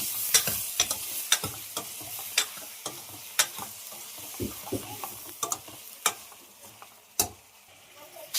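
A spoon repeatedly scrapes and knocks against a pan as moringa drumsticks and tomato are stirred over a soft, continuous sizzle of frying, with sharp, irregular clinks standing out close by.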